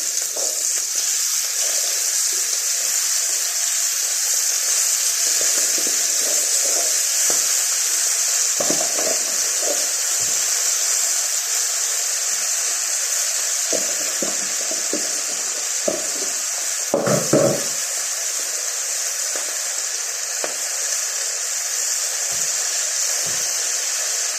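Greens and onion leaves frying in a pan for a leafy greens dish, giving a steady, loud hiss that runs the whole time, with occasional stirring clatter and scrape near the middle.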